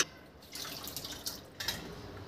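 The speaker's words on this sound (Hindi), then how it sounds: "थोड़ा सा पानी डालती हूँ।" A little water is poured into a dal mixture in a home kitchen, making a brief, gentle splashing trickle that comes in two short bursts.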